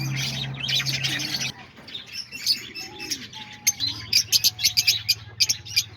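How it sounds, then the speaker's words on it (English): Pet lovebirds kept in a cage with a swing chirp and tweet nearby, a burst of busy calls at first, then sharp repeated high chirps with a low hum underneath. "And here we are with the lovebirds."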